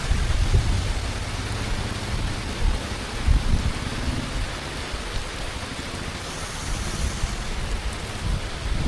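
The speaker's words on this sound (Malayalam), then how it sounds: "അത്യാവശ്യം നല്ല മഴയാണ്" Heavy rain outside the Malik Dinar Mosque in Kerala pours down in a dense, continuous hiss with low rumbling, loud and close throughout, no voices.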